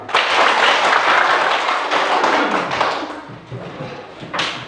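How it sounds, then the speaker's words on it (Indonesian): Children clapping their hands together in a classroom lesson, a loud, dense burst of many small hands that thins out toward the end, with a final scattered clap. "Tepuk tangan semua."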